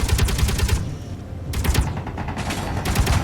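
Automated turret in the video game Space Engineers firing continuous bursts of gunfire, loud and close, with a brief lull in the middle before the rapid shots resume.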